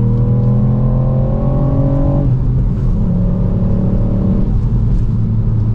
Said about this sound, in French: Belle petite sonorité hein, du 3 cylindres, c'est assez agréable.